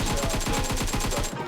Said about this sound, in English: See, the first spray was with crouching, the second was without.